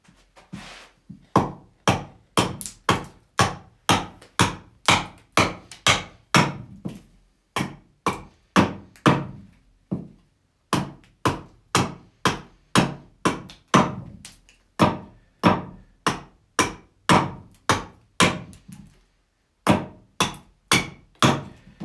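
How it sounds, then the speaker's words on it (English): A wooden bowl being carved on a spring pole lathe gives a long, rhythmic series of sharp, loud knocking strokes, roughly two per second, with brief pauses between runs and no voices. "And I'm slowly dropping the bowl as I carve."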